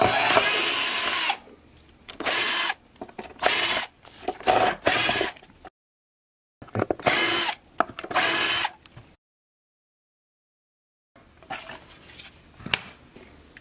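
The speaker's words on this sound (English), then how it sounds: "I've got my drill bit here" A power drill whirs in several short bursts separated by pauses and silences, close and loud, with some scraping between bursts, as it removes hardware from a guitar.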